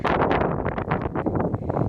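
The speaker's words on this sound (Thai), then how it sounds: "ลมแรงจ้า" Strong wind blows across an outdoor vegetable garden, roaring and buffeting the microphone in loud, continuous gusts with no voices.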